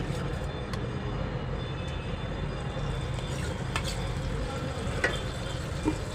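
Oil and butter heating in a pan for pav bhaji give off a steady low sizzle, with a few faint clinks over it and no talk.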